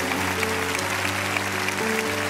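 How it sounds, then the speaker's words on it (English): A church congregation claps together, a continuous broad patter of hands over sustained organ or keyboard tones playing steadily underneath. "Come on, give a big hand clap."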